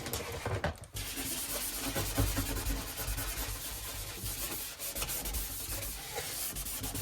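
A stovetop is scrubbed with homemade orange-peel cleaning liquid, a continuous close rubbing and scouring noise with brief pauses, no one speaking.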